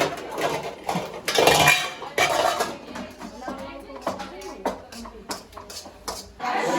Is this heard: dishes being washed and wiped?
yes